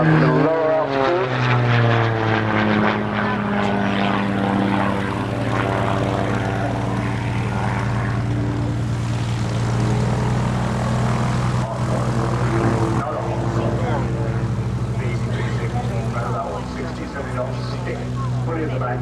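Propeller aerobatic plane at the Woodchurch air show, its engine drone strong and continuous for the whole stretch while a commentator keeps talking over it.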